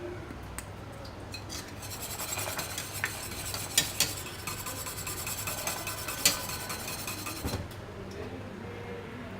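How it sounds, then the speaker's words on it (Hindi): Steady scraping and swishing of a spoon stirring a kulfi mixture of milk, cornflour and cardamom in a pan, continuous and close with a few louder metallic clinks, no voices. "अब इसको अच्छी तरह मिक्स कर लेंगे।"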